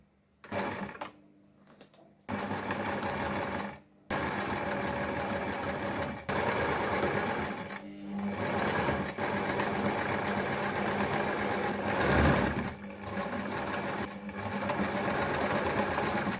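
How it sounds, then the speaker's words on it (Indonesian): A sewing machine stitches a zipper onto a fabric pouch, running in loud close bursts of rapid mechanical hum with short pauses between runs. "Untuk menjahit bagian resletingnya tadi aku menggunakan sepatu yang seperti ini ya guys."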